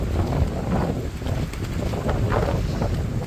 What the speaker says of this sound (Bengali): আশা করি মোবাইলে আওয়াজ আসছে হাওয়ার